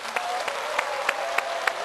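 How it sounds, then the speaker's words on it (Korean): A debate audience applauds two election candidates at a party primary event in the Yeongnam region, a steady wash of clapping with a few sharper claps standing out at regular intervals, fairly loud and filling the whole moment. "여러분들 두 후보 고생하셨다는 뜨거운 박수 한번 부탁드리겠습니다"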